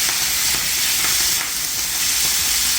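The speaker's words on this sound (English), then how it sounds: "While this is sizzling away, I'm gonna throw in" Strips of bacon, each long strip cut in half, sizzle and crackle steadily in a frying pan for a copycat Wendy's Double Baconator, a loud continuous hiss with small pops throughout and no voices.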